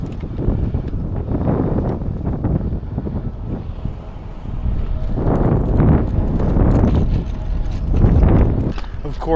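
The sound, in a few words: strong wind gusts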